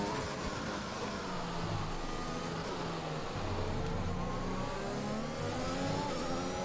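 F1 car engine in the F1 2021 racing game at the French GP, running with DRS open: a steady, loud high-pitched engine whine with rising and falling pitch traces, continuous throughout with no talking.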